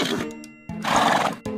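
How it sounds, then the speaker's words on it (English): A horse neighs in a children's animal-sounds learning program, giving a loud, close whinny in a few shaky bursts, with no speech over it. "horse."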